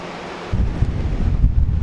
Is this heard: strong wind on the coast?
yes